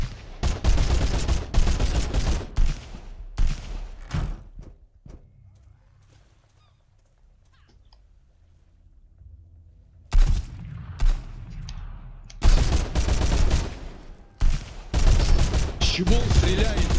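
Gunfire in the survival game Sunkenland, loud dense bursts and volleys in the opening seconds, a quiet stretch in the middle, then heavy shooting again near the end, with some voices mixed in.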